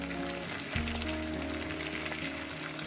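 Spice paste and water are poured over pan-fried drumstick vegetable and potatoes for a thin summer curry, producing a loud, continuous crackling sizzle with a faint steady hum underneath and no voices.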